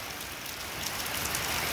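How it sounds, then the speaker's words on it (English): Heavy rain pouring down outdoors at night in a yard, a dense, close, steady hiss of drops on surfaces that builds slightly louder toward the end. "I love being out in the rain."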